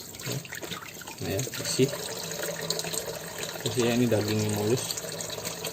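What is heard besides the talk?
running tap water washing crab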